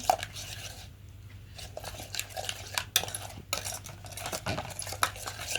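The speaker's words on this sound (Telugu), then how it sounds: "చూడండి, ఇట్లా మంచిగా కలుపుకొని పెట్టుకోవాలి, ఉండలు కట్టకుండా." A spoon stirs a curd mixture in a pot for paneer curry, scraping and clinking against the metal in irregular strokes, close and moderately loud, with no voices.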